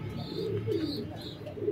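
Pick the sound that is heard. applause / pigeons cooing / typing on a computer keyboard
pigeons cooing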